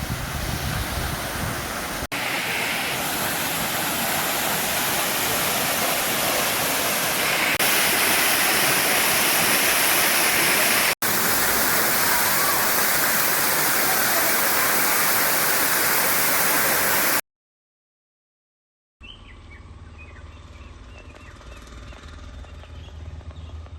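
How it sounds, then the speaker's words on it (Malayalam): A scenic waterfall sends up a loud, steady, close roar of rushing water for about seventeen seconds, then cuts out briefly and comes back as a softer, more distant wash. "നല്ല മനോഹരമായിട്ടുള്ളൊരു വെള്ളച്ചാട്ടമാണ്"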